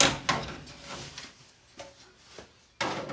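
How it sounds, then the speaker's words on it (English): Metal drawers slide out of an old Sears Craftsman 12-drawer top tool box, with several scraping rolls and clanks, a sharp metallic bang at the start and another loud clatter near the end. "let me yank out all these drawers and see what we find"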